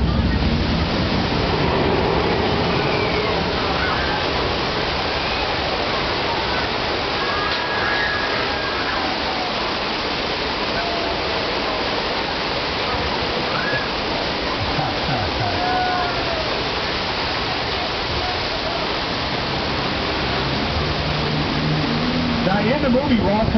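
Water crashing in a subway tunnel during the underground section of a Universal Studios tour ride makes a loud, continuous rushing roar that fills the whole stretch.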